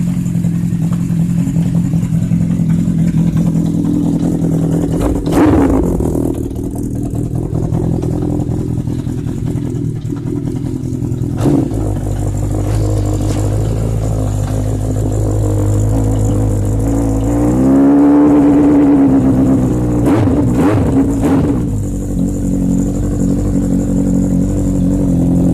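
Loud, close-up revving from a 1980 Honda CB750K with a Delkevic exhaust: a steady idle broken by several sharp throttle blips and one longer rise in revs, with no voices over it.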